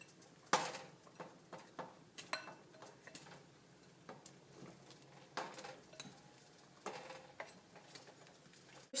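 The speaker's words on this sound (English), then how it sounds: "Stir the pot for about a minute" Tteokbokki with fish cakes being stirred in a pot, giving quiet scattered scrapes and clinks of a utensil against the pot at an irregular rhythm over a low kitchen background.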